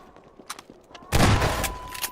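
Gunfire in the Half-Life 2 video game: faint scattered shots, then a loud sustained burst of rapid firing that continues to the end, with a steady tone running underneath.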